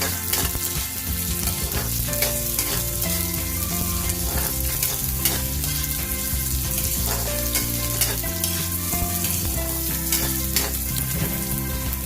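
Chopped onion, garlic and ginger sauté in hot oil in a pan for a Filipino coconut-milk tilapia dish, giving a steady, loud sizzle with scraping stirs and clinks throughout. A low tonal hum underneath may be background music.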